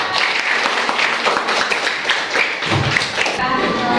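A class claps together as an ice-breaking activity, with a busy patter of hands, some nearby taps and thuds, and a brief voice near the end.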